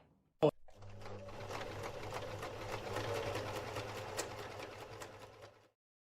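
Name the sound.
sewing machine stitching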